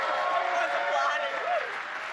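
Studio audience applause on a late-night talk show, a continuous wash of clapping and cheering with voices faintly mixed in.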